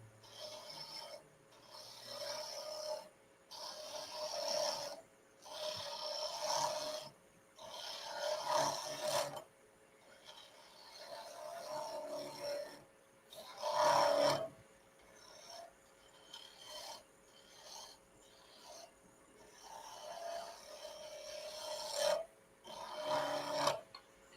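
A skew chisel turning a Banksia pod and stabilized wood hybrid pen blank on a lathe gives a rhythmic rasping scrape, in repeated strokes with short gaps, close and fairly even in loudness.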